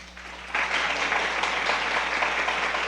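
Church congregation breaking into applause for a visiting pastor, a quieter start that swells into a full, steady round of clapping with a low hum underneath.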